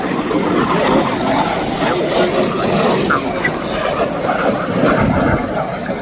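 An Eastern Bloc second-generation jet trainer performs at the Southport seaside airshow, its engine a loud, steady roar that fills the whole stretch while a commentator talks over it through the public address.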